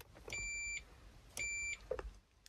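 A continuity meter gives two clear electronic beeps, each about half a second long, while two horn-switch contact panels in a car's steering wheel are pressed together to test the horn circuit, with faint clicks of handling in between.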